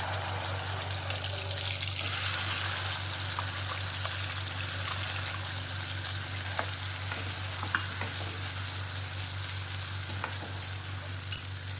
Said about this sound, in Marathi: तर आता आपण वाटण भाजून घेणार आहोत.